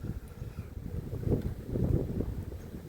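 Harsh wind buffets the microphone in steady low roaring gusts, swelling louder in the middle and staying loud throughout, with no voices.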